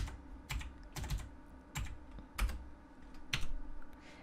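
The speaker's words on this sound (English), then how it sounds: "you can just hit spacebar, type in normals" Keys clack on a computer keyboard in scattered bursts, with a few heavier spacebar presses among lighter taps, close and fairly quiet with no talking.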